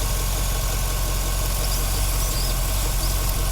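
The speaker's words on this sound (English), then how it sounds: "So the engine is running, and everything looks like it's running normal." A 2011 Chevrolet Camaro engine, fitted with an oil catch can, idles steadily with a close, even mechanical hum and faint ticking, constant and loud throughout with no voices over it.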